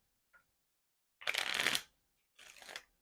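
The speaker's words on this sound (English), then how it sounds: "I'm going to shuffle twice in between each round." Two quick riffle shuffles of a deck of playing cards, each a crisp burst of flapping card edges, preceded by a faint tap, close and clear.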